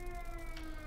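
A steady siren drones in the Sniper Elite 5 video game, a sustained wailing tone held throughout the short moment over a low background rumble, with no speech.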